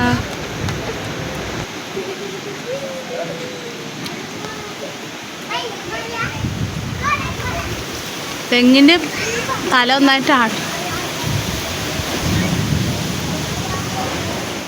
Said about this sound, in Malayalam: കുറേ നേരം കാറ്റൊക്കെ കാറ്റും മഴയൊക്കെ നോക്കി നിന്നിട്ട്